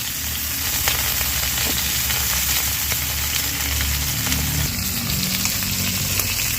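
Fresh pond fish fry in hot oil over a clay stove, a loud, dense, continuous sizzle with crackles and spits close by, with no voices over it.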